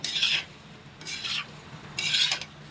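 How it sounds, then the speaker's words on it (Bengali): Pasta is stirred in a pan with a utensil: three separate scraping strokes about a second apart, close and fairly soft, with no talking. "পাস্তাটা দিয়ে একটু ভালো করে নেড়ে চেড়ে দিচ্ছি"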